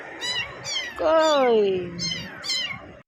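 Abandoned kittens meow in a series of high, thin cries, with one longer, louder, wavering meow in the middle and shorter calls before and after, close to the microphone, while a person speaks briefly.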